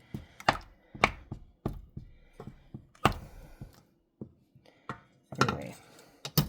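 Wooden spoon chopping butter in a kitchen, a series of irregular, close, sharp knocks spaced with short pauses, some in quick pairs, with no talk over them.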